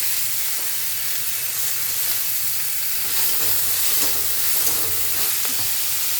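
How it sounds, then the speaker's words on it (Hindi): Tomato and green chili sauté in a pan for poha with a steady, close sizzling hiss, lightly stirred throughout, and no voices. "दो मिनट इसको टमाटर डालकर और मिर्ची डालकर भून लिए हैं, बस 2 मिनट।"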